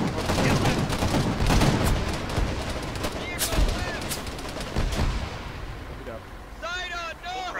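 Gunfire in an ArmA 3 battle with grenades thrown: loud bursts of rapid automatic shots crowd the first seconds, then thin out into scattered single cracks while voices shout over the fighting.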